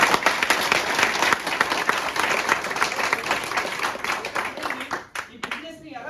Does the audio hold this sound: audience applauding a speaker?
yes